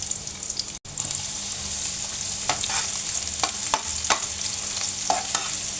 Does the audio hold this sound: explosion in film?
no